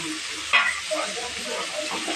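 Tomatoes and curry leaves sautéing in hot oil for chicken curry, a constant bright sizzle with a sharp clink of the spoon near the start and soft stirring scrapes after.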